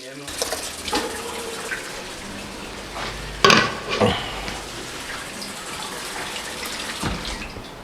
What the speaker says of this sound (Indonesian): Langsung aja kita isi dengan air ya, kita isi air.